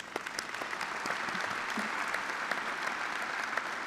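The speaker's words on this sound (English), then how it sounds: "A round of applause, please." Steady applause from an audience at a community college commencement ceremony, a continuous crowd of clapping hands at moderate distance.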